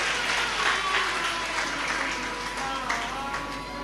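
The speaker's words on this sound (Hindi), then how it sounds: "एक बार उनके लिए भी जोरदार ताली बजाकर साधुवाद है।" A crowd at a live Shiv Mahapuran katha breaks into vigorous applause, a dense continuous wash of clapping held evenly throughout, fairly loud, with faint tonal sounds beneath.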